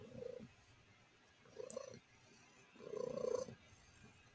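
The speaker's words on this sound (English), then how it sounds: "She has a quite loud purr." A house cat purrs loudly and close by, in three rhythmic bursts separated by short pauses, with no talking over it.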